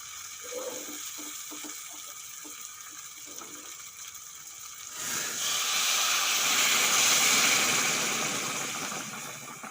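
Hot water is poured into a pot of spiced prawns, jackfruit and potato curry. A faint sizzle with light taps gives way midway to a loud, steady rushing gush of water.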